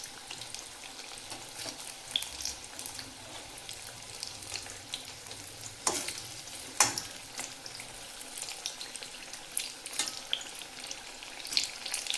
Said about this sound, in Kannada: ಸ್ವಲ್ಪ ಇದು ಗೋಲ್ಡನ್ ಬ್ರೌನ್ ಬಂದು ಮತ್ತು ಫ್ರೈ ಮಾಡಬೇಕು